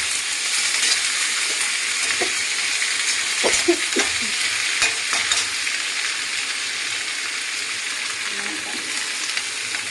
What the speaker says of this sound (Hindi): तो देखा हमने छौंक दिया है मिर्ची और मिर्चा